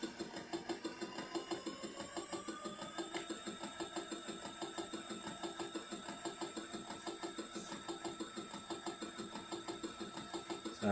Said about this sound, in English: you get the sound of the rotor separate from the sound of the engine